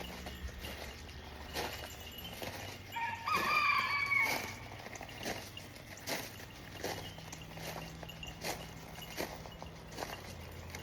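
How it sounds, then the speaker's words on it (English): Roosters crowing in the morning on a country homestead with goats and chickens: one fairly distant crow rises a few seconds in over soft footsteps and steady outdoor ambience. "Neighbors' roosters are talking to my roosters."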